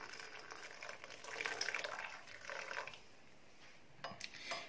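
Boiling water poured over lemon in a cup, making a soft, faint splashing and trickling stream that swells and fades, with a light clink near the end.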